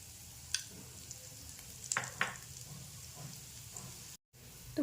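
Rava dosa frying in oil on a hot pan, a soft steady sizzle with a few sharper spatters and scraping touches, close and fairly quiet, with no voices.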